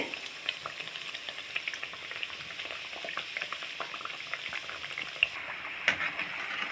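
Rice flour thattai fry in hot oil over a medium flame, a dense, continuous bubbling crackle with frequent small pops, close and fairly quiet, with an occasional utensil tap near the end.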